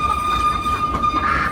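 The Silver Dollar City steam train in Branson, Missouri rolls down a steep hill, giving a loud, steady rumble of wheels and cars close by with a high, sustained squeal running through it.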